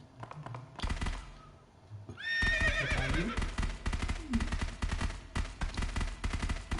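A horse in a video game whinnies in a loud, drawn-out neigh over rapid bursts of gunfire and galloping hooves, with game action continuing throughout.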